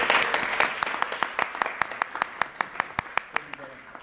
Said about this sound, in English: Big round of applause for Manny.